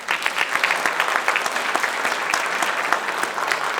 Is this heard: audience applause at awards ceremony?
yes